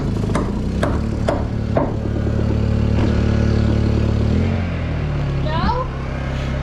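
A Honda 2200 inverter generator runs steadily under load as it tries to start an air compressor, a loud close engine drone with a few clicks and a voice speaking partway through.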